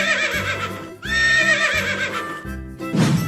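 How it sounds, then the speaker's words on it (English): A horse neighs loudly in a repeated whinny sequence of about three calls, close and clear with no talk, set among a playful run of animal sounds. "Horse."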